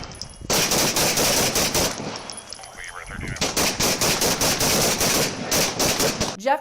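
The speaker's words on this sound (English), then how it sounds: "3 officers opened fire on the scene" Rapid bursts of gunfire crack out in an exchange between police officers and a suspect in Utah, loud, dense volleys with a brief lull, caught on a body camera.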